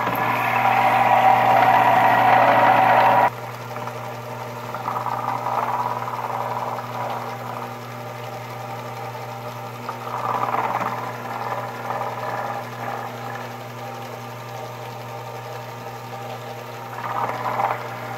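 A small Sherline lathe faces the end of a part with a steady motor whine and hum, louder for the first few seconds and then settling into a lower continuous drone with a few faint rises of cutting noise.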